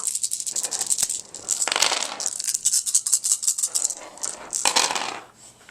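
Seven dice rolled together in a tabletop board game, a dense clattering rattle of bouncing and tumbling dice on a hard surface lasting several seconds, close and fairly loud, then settling near the end.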